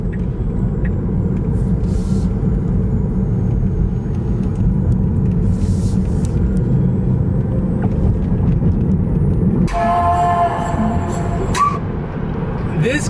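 A Tesla Model 3 Performance cruises at 70 mph with a steady low road and wind rumble inside the cabin, while a person talks over it and a brief higher whine cuts in near the end.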